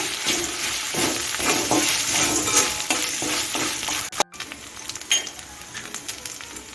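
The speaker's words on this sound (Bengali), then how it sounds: "আদা পেস্ট একটু কষিয়ে নিচ্ছি" Ginger paste frying with onion, garlic and chili in a pan, a loud close sizzle with rhythmic stirring scrapes, briefly cut off, then resuming with a few spatula knocks.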